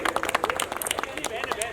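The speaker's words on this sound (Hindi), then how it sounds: "जोरदार ताली होनी चाहिए" An audience at a seminar on railway jobs applauds, scattered claps mixed with a speaker's voice and crowd murmur.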